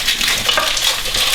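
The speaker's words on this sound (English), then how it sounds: "I need to continue to stir." Chocolate melting in a pot for a chocolate walnut torta while being stirred continuously, a close, steady scraping and soft bubbling texture throughout with no voices.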